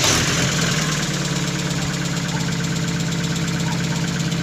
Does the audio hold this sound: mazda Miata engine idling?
yes